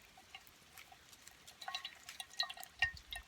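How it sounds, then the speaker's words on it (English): Water drips and trickles through a bushcraft char cloth filter bag, a run of faint, irregular droplet plinks that grow busier toward the end, recorded close in a quiet outdoor setting. "Look at how the drops look going through there."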